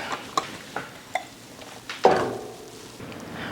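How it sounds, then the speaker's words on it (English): Banana pudding custard of milk and warmed eggs is stirred in a pot over low heat, giving a few sharp spoon clinks against the pot and a louder scrape near the end, quiet and close. "We're just stirring this over low heat until it starts kind of simmering again and it gets thick."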